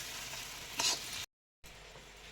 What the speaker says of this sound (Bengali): নেড়ে চেড়ে আবার একটু ভেজে নিতে হবে, যাতে ডিমটা ভাজা হয়ে যায় সুন্দরভাবে